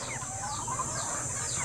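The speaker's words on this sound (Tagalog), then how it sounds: "ngayong umaga magpapakain tayo ng mga manok natin" Backyard chickens cluck and chatter in a steady, busy background at morning feeding time, with several birds vocalizing at once at moderate distance; no talking.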